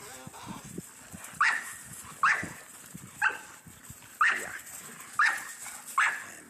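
Dogs bark in sharp, evenly spaced yips about once a second, six in a row, fairly close indoors, with faint scuffling between barks.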